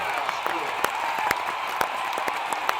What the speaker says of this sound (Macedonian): Аплауз сега.